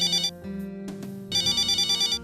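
A telephone rings in a family home, giving two bursts of a bright electronic ringtone separated by a short pause, loud and close with no talking.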